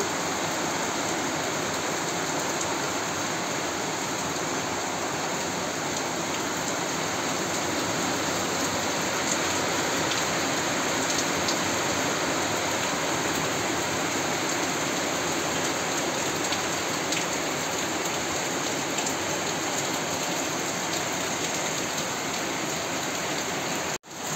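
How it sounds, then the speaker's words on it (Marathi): Heavy rain pours down in a dense, unbroken roar that holds steady and loud throughout, like a downpour drumming on surfaces outdoors. "पाऊस बघू शकता किती जोरात येतो"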